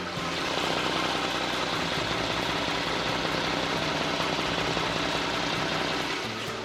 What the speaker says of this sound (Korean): 마지막으로 엔진 소리 들려드려야죠 바로 들어보실게요